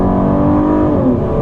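A 2015 Toyota Camry's 295-horsepower V6 engine revs upward steadily, its smooth hum rising in pitch as the car accelerates, loud and close with no talking.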